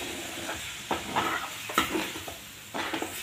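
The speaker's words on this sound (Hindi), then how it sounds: "हल्का हल्का करके डालें। बराबर चलाते रहें कि कुछ नहीं हो।" Milk stirred into a rice laddu mixture in a pan gives a few quiet, close scraping strokes over a steady low sizzle, with no talking.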